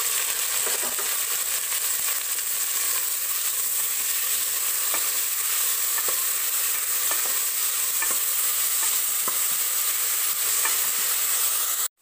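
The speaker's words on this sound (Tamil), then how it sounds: "இதையும் சேர்த்து நம்ம நல்லா வதக்கிடலாம்." Onions, tomatoes, green chillies and curry leaves sauté in a pan with a loud, steady hiss and sizzle, broken by occasional soft stirring taps across twelve seconds, without any talking.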